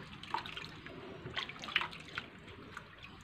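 Quiet water sloshing and dripping as sago starch flour is rinsed by hand in a bowl, with a few soft splashes standing out against a low background, no talking.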